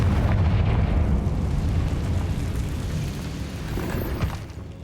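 Confringo fire spell cast in Hogwarts Legacy, a loud rumbling blast with a heavy low roar that holds for several seconds and slowly fades.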